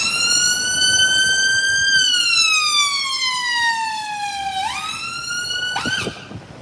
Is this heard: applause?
no